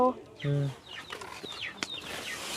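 Chickens give a few short, close clucks and chirps in quick, uneven bursts over a quiet background. A brief voiced sound may be mixed in.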